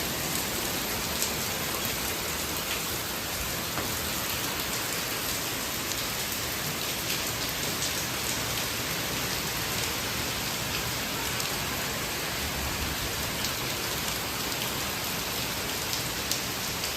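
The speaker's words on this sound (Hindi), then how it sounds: "अभी बहुत तेज़ बारिश हुई है, एकदम से बिजली कड़की" Heavy rain pours steadily outside a home during an evening storm with thunder and lightning, a dense, loud, unbroken hiss of drops on surfaces lasting throughout with no talk.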